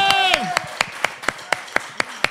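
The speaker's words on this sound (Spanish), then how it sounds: "La gente quiere que le demos un aplauso a Alex por su interpretación" Sharp handclaps in a steady, even rhythm, about ten in a row, with a voice speaking briefly over the first few.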